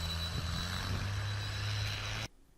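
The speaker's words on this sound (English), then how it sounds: "So here's a Jabberwock on a flyby. The IC engine is running." Jabberwock aircraft powered by an IC engine with four ducted fans making a flyby, a loud steady droning engine roar with a constant low hum, cutting off abruptly near the end.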